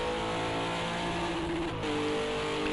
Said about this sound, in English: On the rev limiter too.